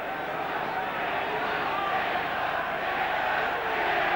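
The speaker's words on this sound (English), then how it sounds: "this crowd perhaps not getting a tremendous amount of really spectacular play, but enjoying the thrills and the tension of it" A large stadium crowd at an England rugby match keeps up a steady, dense roar with murmuring and scattered shouts, continuous and fairly loud throughout.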